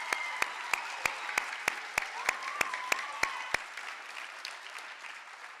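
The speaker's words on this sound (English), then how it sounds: "Let's just give Dr. Siegel one more round of applause." Scattered audience clapping at the Potter School winter concert, with sharp, distinct claps ringing out for about four seconds before fading into a quieter hall.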